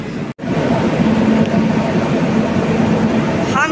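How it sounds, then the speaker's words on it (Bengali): Humsafar Express train pulls out of Sealdah station with a loud, steady rumble and rolling rail noise heard from on board, continuous after a brief cut at the start. "হামসাফার ট্রেন ছেড়ে দিচ্ছে শিয়ালদা স্টেশন থেকে"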